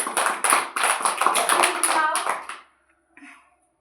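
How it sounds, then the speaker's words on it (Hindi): Children in a classroom body-parts activity clap their hands together in a quick burst of sharp, fairly close slaps with lively chatter mixed in, stopping abruptly before a short quiet tail. "ठीक है, ताली बजाओ सब,"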